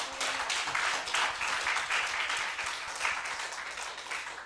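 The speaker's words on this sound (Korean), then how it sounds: "하나님께 영광의 박수 올리겠습니다" A Sunday worship congregation claps in praise, producing a soft, continuous wash of applause that holds steady for several seconds at a modest, somewhat distant level.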